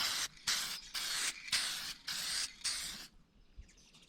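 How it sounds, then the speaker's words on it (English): Clear lacquer sprays onto a largemouth bass skin taxidermy mount in six short hissing bursts at a steady rhythm, close and distinct, followed by quiet. "The next thing I do is hit it with a coat of clear lacquer to seal the powders in"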